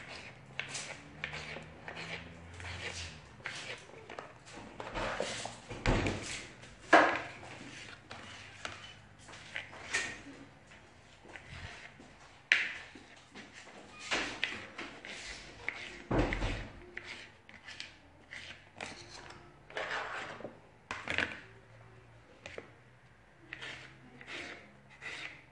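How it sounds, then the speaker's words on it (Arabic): Knife cutting peeled eggplant slices into cubes on a board, giving a steady run of short, close taps and thuds, some sharper chops standing out, with quiet scraping between strokes and no talk. "بعد ما قشرت الباذنجان تاعي قسمتها الى شرائح، وكل شريحه يعني نقسمها الى مكعبات"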